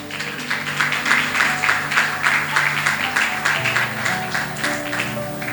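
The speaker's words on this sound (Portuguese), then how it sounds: "Você pode aplaudir Jesus?" A church congregation at a communion service claps together in a steady, rhythmic burst of applause that fills the room, moderately loud and sustained for several seconds without clear speech.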